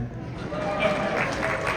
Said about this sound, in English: Yeah, you can clap for her.